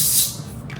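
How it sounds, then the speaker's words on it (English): Cooking spray hisses onto a foil sheet in one brief, close burst that fades quickly. "I think I might actually spray the foil with some cooking spray"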